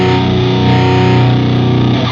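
Heavily distorted electric guitar through a plugin blending 2x15 and 4x12 speaker cabinets rings out as one dense, loud sustained chord with no talk.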